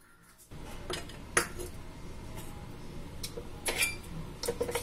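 A spoon clinks and scrapes against a bowl while potato curd pachadi with tempering and coriander is mixed, irregular close metallic taps over soft background noise, no speech.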